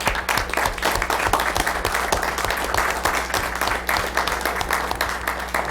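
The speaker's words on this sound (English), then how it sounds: "applause back there." A room claps at a township council meeting, a sustained round of applause with rapid overlapping hand claps over a constant low electrical hum.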